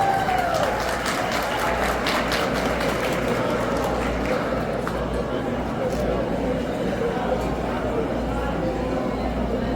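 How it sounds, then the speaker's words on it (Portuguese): An audience at a ceremony honoring the Public Defender's Office applauds Governor João Azevedo. Sustained crowd clapping fills the room at an even level, with some talk mixed in beneath it. "Então, aplausos para ele."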